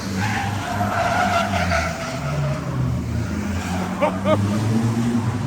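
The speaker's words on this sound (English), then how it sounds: "Like tires are screaming for mercy." Tires squeal and skid during turbo diesel pickup truck racing in Thailand, a loud, sustained screech over roaring engines, with faint voices in the background.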